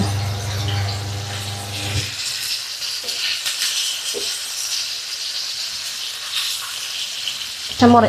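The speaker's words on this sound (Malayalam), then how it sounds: "ഫിഷ് ഫ്രൈ ആയിട്ടുണ്ട്." Fish slices fry in a pan over a low flame for a chilli fish curry, with a brief voiced sound at the start before a loud, continuous sizzling hiss takes over for the rest.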